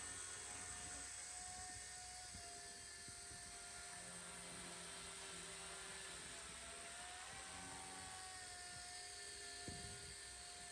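A Blade 90 micro RC helicopter flying indoors produces a steady high-pitched electric whine with buzzing rotor tones that drift slightly in pitch as the throttle changes, holding close and even throughout with no talking.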